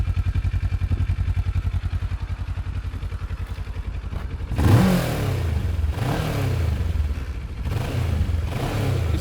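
A Kawasaki Ninja ER6F motorcycle engine idles with a rapid, even exhaust thump, then revs sharply and settles into a rougher throttle-blipping drone, heard close with no talking.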